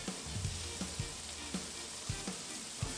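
Sausage fries in a pan with a tablespoon of margarine, a low, steady sizzle close by, punctuated by soft, irregular scraping knocks from stirring.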